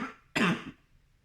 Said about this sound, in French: C'est pour ça que j'ai toussé.